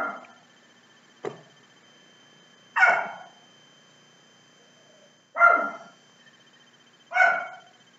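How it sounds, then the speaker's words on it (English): A small dog yaps at a plumber arriving at the door, giving four or five sharp barks spaced a second or two apart in an otherwise quiet room, moderately close. "Now the dog is yapping because the plumber's there and she doesn't like strangers"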